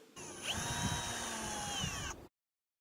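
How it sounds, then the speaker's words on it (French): A power drill or driver runs steadily for about two seconds, driving fasteners to secure a skylight extension onto its collar through pre-drilled holes on a slate roof installation, with a whining motor tone, then cuts off to silence. "Fixez la rallonge sur le collier en utilisant les trous pré-percés."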